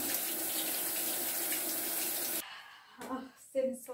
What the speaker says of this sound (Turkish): Kenara alayım hem bıçağımı hem soğanlarımı yıkayayım.